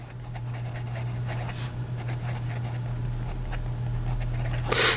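Fountain pen writing in reverse on paper, a slightly scratchy nib making close, soft scraping strokes in short bursts over a constant low hum.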